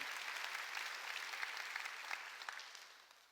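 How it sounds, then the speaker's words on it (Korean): A church congregation claps together during a Sunday worship service, a steady, dense wash of applause from many hands that fades slightly toward the end, with no talk over it. "박수를 하나님께 영광 드리라"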